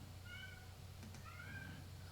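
A cat meows faintly in a quiet room, two short mewing calls separated by a brief pause, heard over a low steady background hum.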